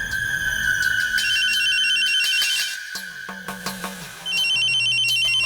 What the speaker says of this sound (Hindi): टप्पू का फोन है, बजने दो।